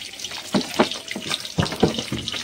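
Water pours into a pot of curry with taro and potato, splashing and sizzling up close in uneven bursts as it hits the hot pan.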